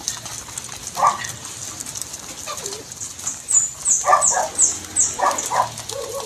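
Racing pigeons in a loft of champion-line hens give a few soft, intermittent coos and wing flutters, with bright chirps and a faint distant dog bark in the background.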